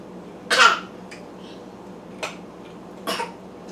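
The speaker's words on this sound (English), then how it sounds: "He like fake coughs a lot." A child fake coughing, giving one sharp cough followed by two lighter, short coughs spaced over a few seconds against a quiet room.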